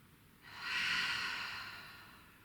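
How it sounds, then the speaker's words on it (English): One slow, deep breath drawn in and released through the nose during a quiet yoga practice, a soft close airy hiss swelling and then gently tapering away. "Retraining your body, your mind to take full deep breaths"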